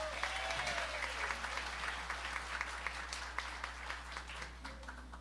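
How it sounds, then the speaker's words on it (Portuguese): Church congregation applauding during a sermon, a sustained wash of many hands clapping at a distance over a low steady hum. "Uma salva de palmas para Jesus."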